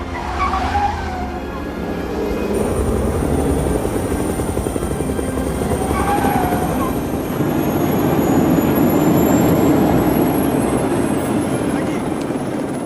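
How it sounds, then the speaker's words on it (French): A helicopter flying close by, its rotor and engine making a loud, continuous throbbing roar that holds steady and swells slightly, with a thin high whine running above it. "Je prends l'hélico."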